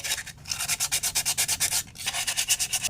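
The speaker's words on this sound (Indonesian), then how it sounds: "sisi permukaan yang mau kita lem harus kita amplas dulu ya, supaya supaya lemnya bisa ngegigit di sini ya" Sandpaper rubbed back and forth over a broken car mirror mount to roughen it before gluing, quick rhythmic strokes close up with a brief pause midway.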